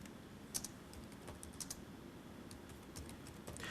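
An SQL command being typed on a notebook keyboard: quiet, irregular key clicks in quick bursts with short gaps, faint and close, no talking.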